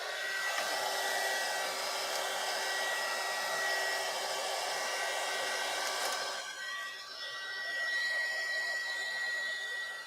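A hair dryer blows steadily at close range, its whirring hum dropping briefly partway through before continuing to the end.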